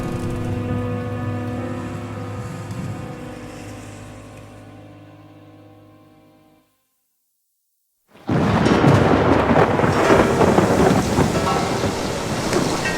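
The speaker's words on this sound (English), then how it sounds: "The storm hit them." A thunderstorm at sea with a fishing boat. A sustained tonal swell fades to near silence, then loud rain and rumbling thunder burst in and roar on steadily.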